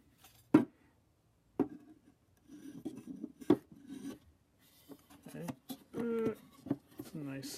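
A wooden guitar neck is pushed and worked into a cigar box guitar body, giving sharp knocks and scraping rubs of wood on wood, close up, with someone talking at points.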